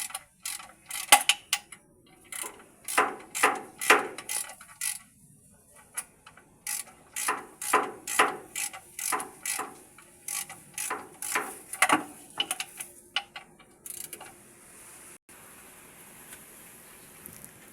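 A ratchet wrench tightens bolts while a car transmission is mounted, with long runs of quick, crisp clicking strokes in repeated bursts, close and fairly loud, ending in a quieter stretch with a faint hum.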